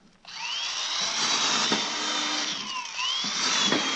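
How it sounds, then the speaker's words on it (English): An electric drill whines steadily up close, its pitch dipping and rising as the bit bites into the board, with brief bumps of handling. "Look at it drill holes through this board."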